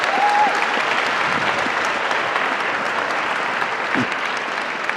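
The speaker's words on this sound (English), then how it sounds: "Another round of applause for them," Sustained applause from an audience, a steady wash of clapping that holds at an even level throughout.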